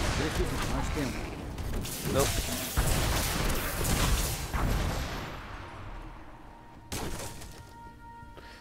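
Explosion spell effects in the Diablo 3 game crackle and rumble in dense, overlapping bursts for several seconds, with a player's voice briefly under the chaotic battle noise.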